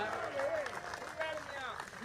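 A small crowd at the FanDuel Pacific Classic horse racing draw gives a brief round of applause, heard under overlapping voices that continue throughout.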